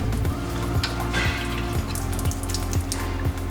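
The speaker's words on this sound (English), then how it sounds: "Get a little bit of water spitting out the unit" Residual water spits and drips in short irregular bursts from a cold water filter unit after the supply is isolated, with faint crackles over a low background hum and no talking.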